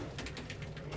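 Pigeons or doves coo softly in a rapid run of low, throaty notes during treat time, close by and fairly steady, with soft rustling behind them and no talking.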